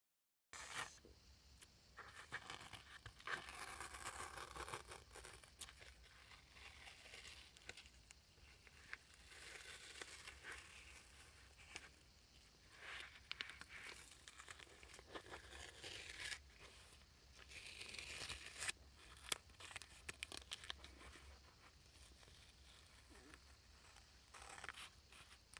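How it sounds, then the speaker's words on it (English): Masking tape peels slowly off a finished cactus painting, giving a quiet, drawn-out crackling tear with uneven surges and short pauses, close by and faint. "I always wait till I take the tape off."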